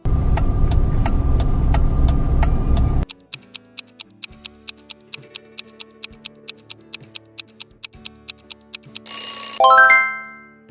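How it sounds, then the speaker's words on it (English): Car turn-signal indicator ticking in a steady, even rhythm of sharp clicks, following a burst of loud noise and ending in a brief tonal chime. "It is a car indicator."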